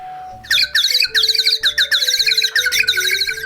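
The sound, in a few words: bird whistle imitating small birds chirping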